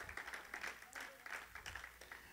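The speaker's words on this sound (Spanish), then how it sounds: "Vamos a darle un fuerte aplauso al Señor en esta hora" Congregation at an evangelical church service claps together for the Lord, a steady rhythmic patter of many hands with some voices mixed in, moderately near.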